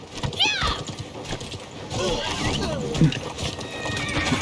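A horse whinnies and its hooves clip-clop amid battle noise in the Conquerors Blade video game, with the neigh rising sharply early on before a busy mix of clatter and voices.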